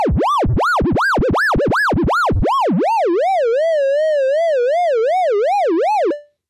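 Synthesized dub siren built in Ableton, a loud electronic tone sweeping rapidly up and down in pulsing whoops, then settling into a faster, shallower wobble before cutting off, with no talking.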